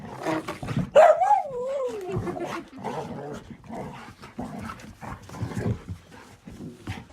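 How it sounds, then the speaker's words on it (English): A dog growls during rough play with another dog, a rising snarling growl that then drops, followed by several shorter grumbling growls and huffs, close and fairly loud. "you can hear it in his growl"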